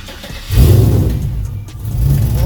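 A car engine turns over and catches, then revs loudly and settles into a rough, rumbling idle close by.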